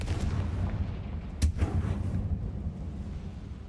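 A Confringo fire spell from the Hogwarts Legacy video game explodes as one sharp, loud blast in the middle of a low, rumbling game background, with no talking.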